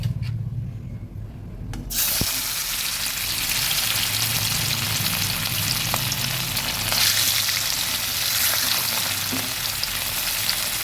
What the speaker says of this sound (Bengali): তেল গরম হয়ে গেছে আমি এক এক করে মাছগুলো দিয়ে দিচ্ছি